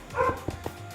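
A dog barks and yips in a short burst of several sharp, close barks, a whimpery tone running between them, with no talking over it.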